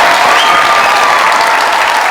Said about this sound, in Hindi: तो मेरे इस शायर के लिए भरपूर तालियां